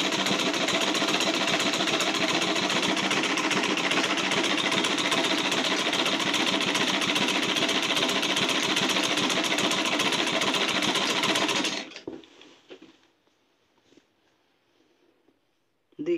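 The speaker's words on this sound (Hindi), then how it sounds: "अब ये नंबर 3 वाली चैन के अलावा जो तीसरी साइड का मैं सिलाई लगा रही हूँ" A sewing machine stitches the third side of a quilt cover with a zipper, a steady close mechanical whirr and rapid ticking that stops abruptly near the end, leaving faint handling clicks.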